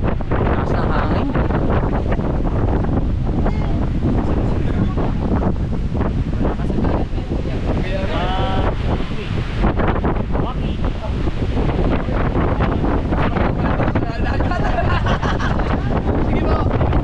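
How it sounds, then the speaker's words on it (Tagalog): Strong wind buffets the microphone outdoors in a cold spot, a constant loud roar with gusting rumble that persists throughout, with people talking faintly underneath. "Taas ng hangin."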